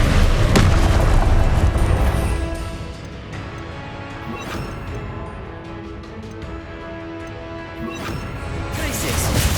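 Confringo blasting spells explode in Hogwarts Legacy with heavy, booming crashes, loud and close, one burst opening and others recurring over a continuous rumbling game soundscape.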